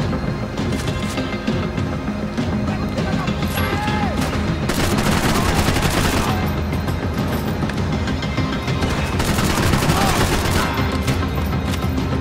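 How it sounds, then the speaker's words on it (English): Shotgun fire in the video game Max Payne 3, heard as a dense, loud and continuous barrage of gunshots with booming blasts and crashes, peaking in two heavier bursts. "esta shotgun tem bom alcance"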